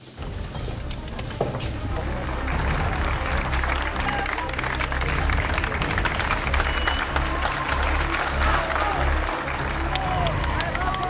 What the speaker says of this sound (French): il y a des centaines de personnes qui applaudissent